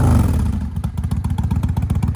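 A 1999 Kawasaki Vulcan 800 Classic with an upgraded aftermarket exhaust runs close by, a loud, steady, throbbing idle with a rhythmic lumpy pulse after an initial rev.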